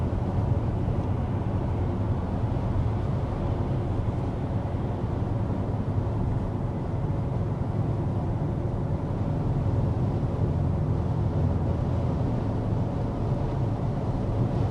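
Steady, muffled cabin hum inside a 2026 BMW X6 V-8 SUV cruising at 55 mph in comfort mode with the climate fan on low, a continuous low road and engine rumble with no voices.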